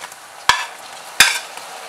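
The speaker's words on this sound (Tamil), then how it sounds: "இப்போ தக்காளி சேர்த்துக்கிறேன்." Chopped tomatoes going into a pan of frying onions and garlic for a Tamil paruppu urundai kulambu, heard as two sharp stirring scrapes over a soft, steady sizzle, close and without talk.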